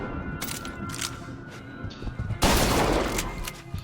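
Rifle and submachine gun fire in BioShock Infinite: a string of sharp shots at first, then a dense burst of rapid automatic fire, close and loud.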